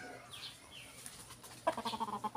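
Chickens cluck in a short burst of repeated, fairly close calls near the end, after a quieter stretch of faint bird chirps and background noise.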